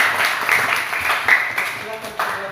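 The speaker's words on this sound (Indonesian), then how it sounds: "Ya, mari tepuk tangan." An audience claps after a group presentation, a dense ripple of applause under a voice speaking over it throughout.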